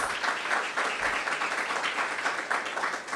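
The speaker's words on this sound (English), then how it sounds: "Give her a big round of applause." A crowd applauding at a city event kicked off by the mayor, steady close clapping from many hands with slight pulsing in intensity.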